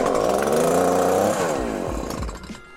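A Stihl HS86R hedge trimmer, freshly rebuilt, runs with a loud steady two-stroke drone, then its pitch sweeps and drops as the throttle falls off toward idle near the end.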